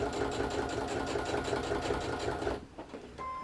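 Sewing machine stitching a fabric jelly bean bag, running in a steady fast rhythmic whir for about two and a half seconds, then stopping, with a few faint handling clicks after.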